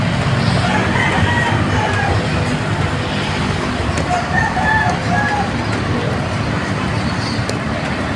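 A rooster crows amid a busy outdoor background with other birds calling and steady traffic noise.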